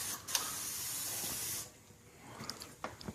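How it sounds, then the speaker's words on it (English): OFF bug spray is sprayed from an aerosol can onto a sock: a steady, close hiss for about a second and a half, then it cuts off, leaving faint handling noises. "you spray this stuff on a sock and then wipe it on the headlights"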